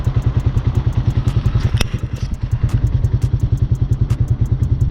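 A Hawk 250cc dual sport motorcycle rides through the city with a close, loud single-cylinder thumping engine note, steady and rhythmic with a brief dip in revs near the middle.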